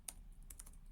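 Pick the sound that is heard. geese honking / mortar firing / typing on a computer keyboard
typing on a computer keyboard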